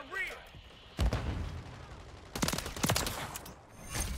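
Gunfire in Modern Warfare 3 from a Holger 556 rifle, several sharp bursts of rapid shots in clusters with quieter gaps between, close and loud, with faint game noise underneath.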